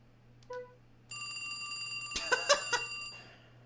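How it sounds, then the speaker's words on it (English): A ringing telephone in the video game Trauma Center: New Blood, a bright electronic bell trill starting after a brief chime, repeating in clear bursts over a steady low hum, fairly quiet and with no talk. "Should have unplugged the phone."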